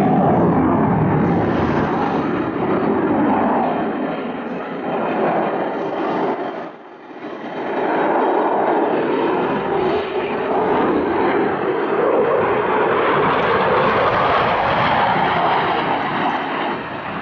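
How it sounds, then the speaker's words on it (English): Eurofighter Typhoon FGR4 jet making a low, high-speed pass at 100 feet over an airshow on the coast, a sustained loud engine roar filling the whole stretch with a brief dip midway before building again. "descend back down to 100 feet and accelerate to just under the speed of sound for another high speed"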